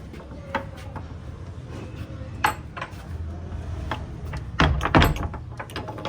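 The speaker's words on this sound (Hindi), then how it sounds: "दरवाज़ा बंद कर दे।" A door is pushed shut in a home during an Eid visit in Kamalia, with a few sharp knocks and clunks, the loudest thud near the end, over faint room noise and light clattering.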